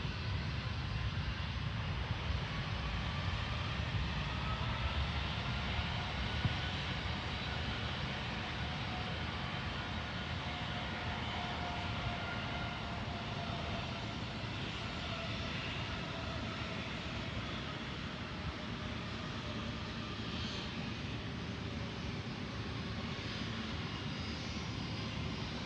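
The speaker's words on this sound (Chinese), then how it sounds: "777，朋友们，南航的777来了" A China Southern Boeing 777 jet roars through its takeoff as a loud, continuous, broadband engine rumble that holds steady, with no talking over it.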